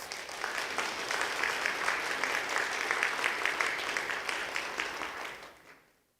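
A church congregation at a Sunday worship service at Gohyeon Church in Geoje claps warmly to welcome the pastor. The dense, steady applause fills the room, then fades out quickly near the end.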